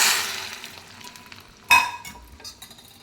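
Hot oil tempering of garlic, mustard seeds and curry leaves for Andhra-style rasam gives one sharp sizzling splash, followed by faint crackles and a light metallic clink. Nobody speaks.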